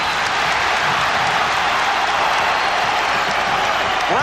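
Basketball arena crowd at a 1992 NBA playoff game between the Bulls and Cavaliers cheering and applauding, a dense, loud, steady roar of clapping and voices filling the whole stretch.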